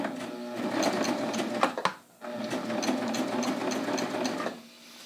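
A serger sewing machine cuts and stitches a jeans hem in a rapid, close mechanical chatter, pausing briefly mid-run before resuming and then winding down.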